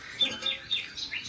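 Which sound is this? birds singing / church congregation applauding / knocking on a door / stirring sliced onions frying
birds singing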